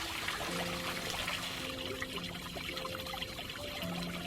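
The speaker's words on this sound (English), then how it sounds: "there's just a little trickle of water running over it." A small woodland waterfall in Jefferson Memorial Forest, running with only a little water after dry weather, gives a soft, continuous trickle and splash, faint and steady, heard on its own.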